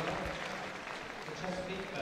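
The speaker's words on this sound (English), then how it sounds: "the Labrador, great cheer for him" Crowd applause and cheering at the Crufts dog show as a Labrador enters the gundog group ring, a steady wash of clapping under a commentator's voice.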